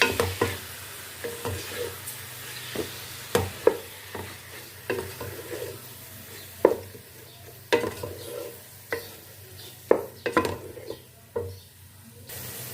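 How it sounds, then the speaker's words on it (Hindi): Minced chicken keema stir-fried in a pan, a quiet continuous sizzle broken by a steady series of sharp utensil scrapes and taps against the pan, with no talking. "अब इसमें हम चिकन का कीमा डालेंगे। तीन मिनट हमने इनको भून लेना है।"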